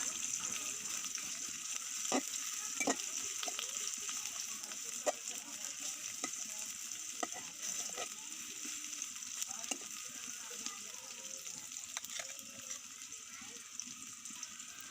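Chopped garlic and onion frying in oil in a pot give a steady, even sizzle that fills the whole stretch, with faint clicks and stirring knocks scattered through it.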